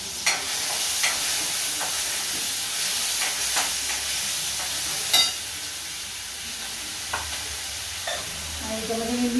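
Onion, tomato and curry leaves fry in a pan as they are stirred, giving a steady, close sizzle with scattered scraping taps from the utensil, and no one talks.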